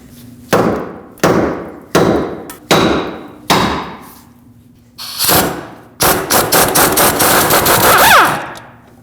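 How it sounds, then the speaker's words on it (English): A hammer strikes a Lexus IS250 ball joint stud, five sharp metallic blows in a steady rhythm, then a pause and a fast flurry of rapid hits with a squealing ring near the end. "use a hammer and just hammer this down until it breaks free"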